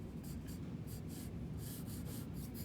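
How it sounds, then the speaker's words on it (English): Pencil scratching and rubbing on paper while sketching a Greek pottery jar, with repeated short strokes and an eraser scrubbing back and forth, close and steady. "So it helps to sketch, so that way you can always go back and erase."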